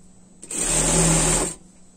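A sewing machine runs a straight seam on a pet winter dress, one loud, steady mechanical whir lasting about a second with quiet before and after.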